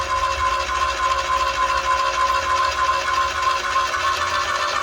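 An airless paint sprayer pump runs with a steady, loud mechanical drone and buzz, its tone holding even and continuous.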